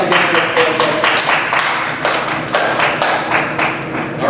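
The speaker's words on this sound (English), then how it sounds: "All clap again for this polite club." A room of students claps together on cue, a steady run of close, sharp hand claps with uneven bursts and thuds over several seconds.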